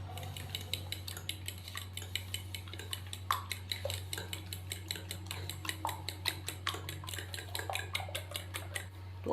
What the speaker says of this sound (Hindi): तो अभी हम अंडों को अच्छी तरह फेंट लेंगे।